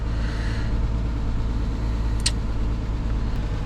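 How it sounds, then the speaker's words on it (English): A Chrysler 300 engine idles roughly with unsteady RPM, a constant close, low rumble with a faint tick, a brief higher-pitched click near the middle. "Engine RPM's kind of all over the place,"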